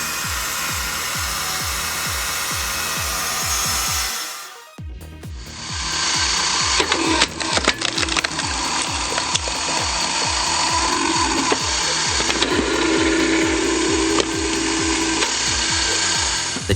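A gas chainsaw with a 5.5 kW engine and a premium guide bar and chain cuts wood, giving a loud, continuous rasping buzz that drops out briefly near the middle, then roars back steadily.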